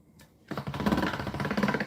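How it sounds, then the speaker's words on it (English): Conditioning polymer clay in a hand-cranked pasta machine: after a short quiet start, a close rhythmic mechanical whirr and rumble pulses steadily as the rollers turn, with no talking. "combine them, and run this through the pasta machine."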